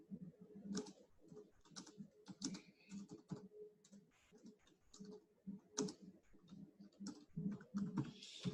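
Someone types on a computer keyboard with soft, irregular clicking in quick bursts and brief pauses. The sound is close but quiet, with a faint room hum underneath and no talking.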